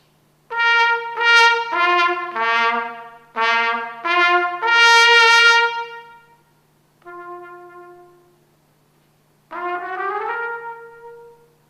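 A brass instrument plays softly, sounding a quick run of short separate notes, then a longer held tone, a fainter low note and, after a pause, one more sustained note. No one speaks.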